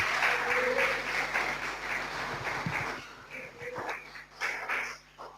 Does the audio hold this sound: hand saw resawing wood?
no